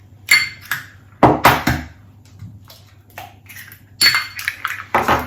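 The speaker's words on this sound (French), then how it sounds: "je prends mon petit pichet verseur dans lequel je vais casser 2 œufs entiers" Two whole eggs are cracked into a small pouring jug, heard as a series of sharp taps and clinks of shell against the jug's rim in several clustered bursts, close and fairly loud, with quiet pauses between.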